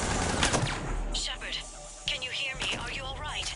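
Gunfire in the Mass Effect 3 video game, rapid shots crackling in bursts through a loud, busy battle mix, with voices talking over the action.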